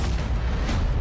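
A big sci-fi explosion in the video game Halo Infinite, a dense, loud low-end boom rumbling steadily through the whole second with no speech over it.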